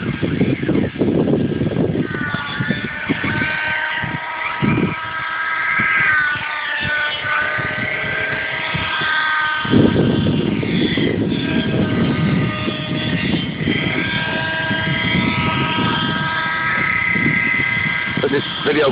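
An RC Corsair model airplane flies overhead at a club field, its engine droning and shifting in pitch as it passes, heard under people chatting nearby.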